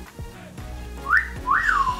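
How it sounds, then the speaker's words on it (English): Two short, rising-and-falling whistled notes, close and somewhat breathy, with soft background noise between them. "This is literally the only whistle I can do"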